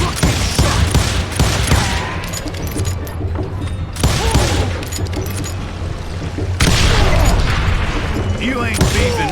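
Rapid bursts of gunfire and heavy booms from the Wild West shooter Call of Juarez: Gunslinger, loud and close, come in dense volleys with brief lulls while someone talks over the shooting.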